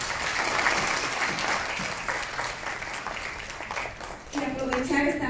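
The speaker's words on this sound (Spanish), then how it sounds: "démonos un aplauso de bienvenida a todos y todas" Audience applause welcoming guests at a public panel discussion on adequate housing: dense, steady clapping from a crowd fills the room throughout, with a voice briefly rising over it near the end.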